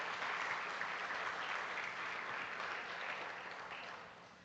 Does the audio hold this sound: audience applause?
yes